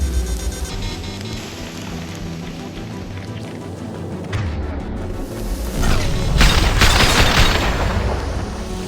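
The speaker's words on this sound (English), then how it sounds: "Heavy fire!" Heavy gunfire and blasts in the video game Mass Effect 2, a loud, sustained barrage of booming shots and explosions that swells near the end, with no one speaking.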